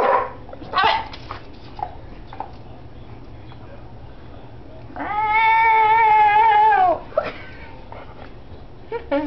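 A pet cat named Koda lets out a long, drawn-out meow in the middle of a room. A dog makes short noises around it and people talk nearby.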